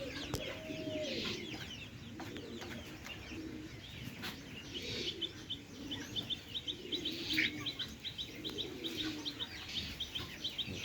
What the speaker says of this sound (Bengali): এটা হচ্ছে ফ্রিজেন্ট জাতের মুরগি